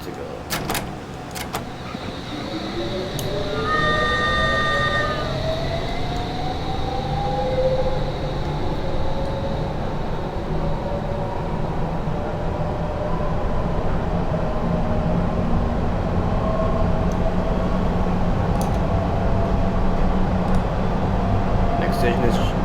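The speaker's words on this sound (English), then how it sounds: "This train is ready to depart. Please mind the doors." A London Underground S7 Stock train in a simulator pulls away, its motor whine rising steadily under a constant loud rumble of wheels and running gear, with a brief chime of door signals early on.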